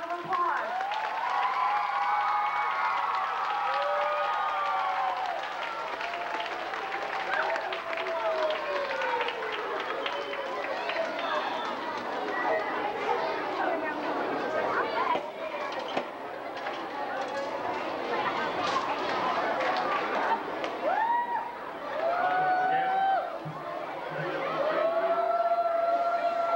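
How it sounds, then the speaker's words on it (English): A large outdoor crowd at a 1991 salute to Gulf War veterans applauds and cheers steadily, with whoops and shouting voices rising over the dense clapping, which continues without a break for the whole stretch. "Let's give them another great big round of applause"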